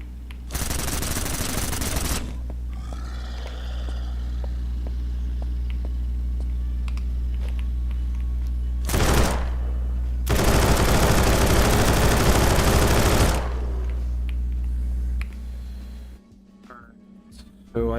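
Suppressed weapon fire in the zombie survival game Surroundead comes in two long, dense bursts of rapid shots with a single short burst between them, loud and close over a steady low game hum.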